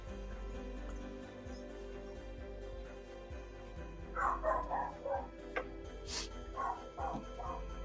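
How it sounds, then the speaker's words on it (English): A dog barks in the background of a live drawing stream, giving a few quiet, scattered yips and barks over a steady low hum. No one speaks. "my dog is going crazy"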